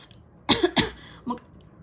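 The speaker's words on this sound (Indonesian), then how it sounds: "Aduh sorry aku batuk." Two quick close coughs followed by a softer third, alone in a quiet room.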